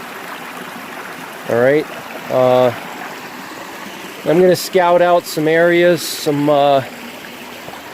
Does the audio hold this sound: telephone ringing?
no